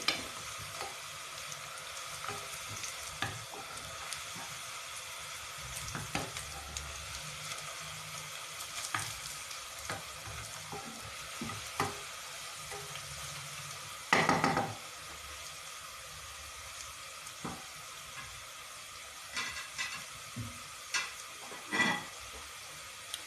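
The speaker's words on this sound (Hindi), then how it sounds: "थोड़ा सा हमने और ब्राउन करना है क्योंकि जो बिरयानी होती है उसमें ब्राउन प्याज ही अच्छी लगती है" Onions fry and brown in a pan for fish biryani, a soft continuous sizzle broken by scattered knocks and scrapes of a spoon stirring, with a louder clatter midway and no voices.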